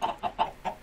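Chickens in Minecraft cluck in a quick run of five short, evenly spaced clucks, close and clear with no talking over them.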